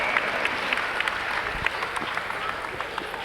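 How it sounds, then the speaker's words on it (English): Applause from the crowd at a Minnesota girls high school basketball section semifinal, Blaine Bengals against Duluth East, as an injured player leaves the court: a steady, moderately loud wash of clapping in a gym, with some talk mixed in. "get a nice hand from the crowd"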